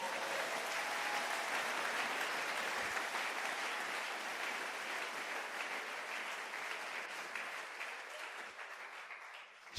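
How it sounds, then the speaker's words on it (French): A church congregation applauds in praise during a French-language sermon, dense sustained clapping filling the room at steady loudness, tapering slightly toward the end with no voices over it. "Acclamons le Seigneur."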